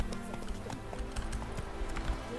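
Horse hooves clip-clop steadily in The Witcher 3, a continuous trotting rhythm over dense game ambience and music.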